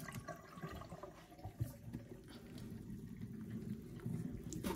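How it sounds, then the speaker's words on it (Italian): Water drains from the hose of a small portable washing machine, a faint, steady trickle and gurgle with a few louder splashes, heard alone and close by. "Tutta l'acqua che c'è esce da sto tubo,"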